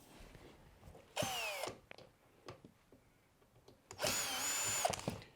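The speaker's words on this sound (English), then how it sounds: "So we need to take out that screw as well." Power drill backing a screw out of an LG washing machine panel: two loud whirring bursts of about a second each, separated by quieter clicks and handling noises.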